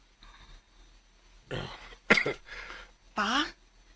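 Several coughs and throat clearing come from a person nearby, spaced into distinct bursts across a few seconds, with a quieter voice murmuring between them.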